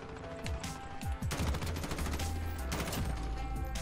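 Dense gunfire fills a Call of Duty Modern Warfare firefight, overlapping bursts and shots at steady loudness with no break and no talk.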